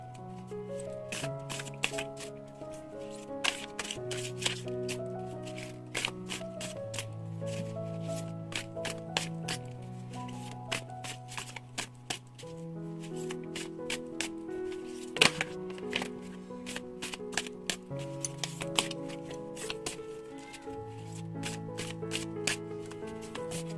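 A deck of tarot and oracle cards is shuffled again and again for a reading, making soft riffling and rubbing bursts that repeat under continuous background music.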